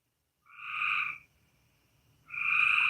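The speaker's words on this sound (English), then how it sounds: "Weather's great, in case you haven't heard the frogs." Frogs croak outdoors in two loud bursts separated by a brief quiet gap, each call a buzzy, rattling chorus close to the listener over a faint low background.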